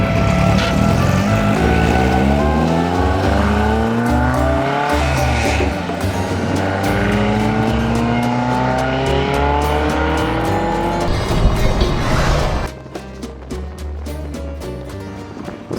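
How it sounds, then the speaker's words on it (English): A Porsche 914 race car on a historic rally road, its engine loud and close, revving up and down through repeated gear changes with a rising and falling whine, easing off near the end. "Back on the road, the 914 was our only running race car left."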